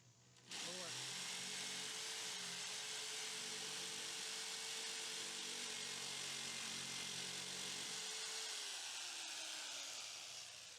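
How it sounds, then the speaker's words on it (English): Jigsaw cutting out the corners of a board while building a bike hauler from an old trailer, a loud, steady buzzing whine that runs continuously for about ten seconds, close up and alone. "The best way to cut out these corners, we're going to use a jigsaw."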